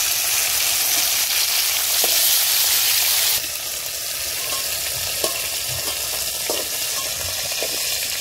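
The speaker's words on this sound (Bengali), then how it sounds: "ডাঁটাগুলো এর মধ্যে দিয়ে দিচ্ছি, একসাথে ভেজে নিয়ে।" Pieces of pointed gourd and drumstick sizzle and crackle in hot oil in a pan, a loud steady frying hiss that settles slightly softer partway through, with a few light clinks of stirring and no talk.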